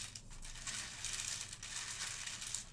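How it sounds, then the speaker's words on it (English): Soft rustling and crinkling of divination cards being shuffled in a quiet close-miked ASMR roleplay, faint continuous papery friction with small taps. "So tell me when I'm done shuffling."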